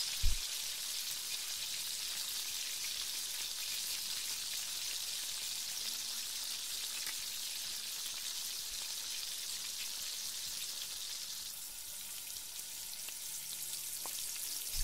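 Chopped carrots fry in a pan for Chinese fried rice, a loud, even, continuous sizzle that crackles like rain and holds steady throughout.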